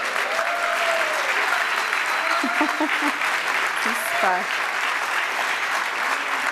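Gala audience applauding volunteers, a thick steady roar of clapping throughout, with scattered cheers and brief voices heard over it.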